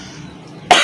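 A single sharp cough bursts out near the end after a stretch of quiet room noise, close and loud.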